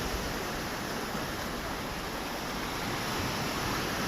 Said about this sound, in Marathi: छानपैकी लाटाचा आवाज येत असेल आपल्याला.